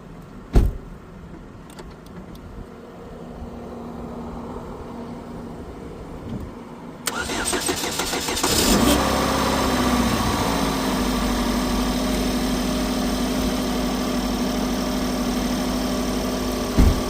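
A Chevrolet Equinox engine cranks and catches after a jump start from two booster packs, then settles into a steady, fairly loud idle that continues unbroken under no talk.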